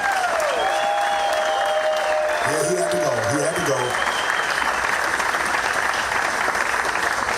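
Applause from an award ceremony audience continues steadily while voices talk briefly over it partway through.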